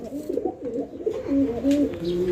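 Near and moderately loud, a male pigeon in a breeding loft gives a throaty, wavering coo, a few rolling notes running together over quiet background noise.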